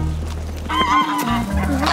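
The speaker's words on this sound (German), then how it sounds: "Gänse!" Geese honk and cackle in a noisy, overlapping flurry close by, with a low rumbling background throughout.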